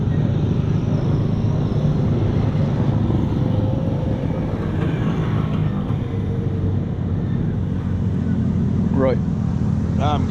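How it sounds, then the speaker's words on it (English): A motorbike, apparently a dirt bike, passes at a vintage bike show, its engine droning steadily under people talking nearby, with a rising whine near the end. "that bike that just went by"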